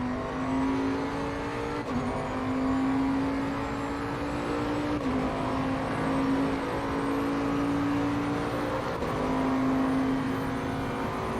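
GT3 race car in Assetto Corsa Competizione, a steady high engine drone with periodic gear-change dips as another car passes close by, loud and continuous throughout.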